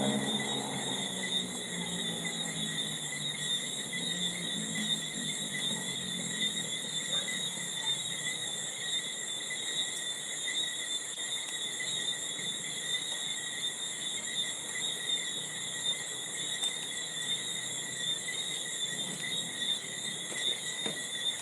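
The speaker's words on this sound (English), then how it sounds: "it's a mix of different insects." A mix of insects, crickets among them, keeps up a dense, steady high chirring the whole time, with a faint passing rumble near the start and no talking.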